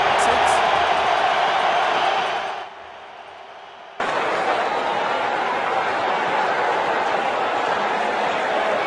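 Stadium crowd in the cricket video game WCC 2 roars as a loud continuous wash of noise, briefly dropping away to a low hush before surging back at full volume, with commentary voices mixed in.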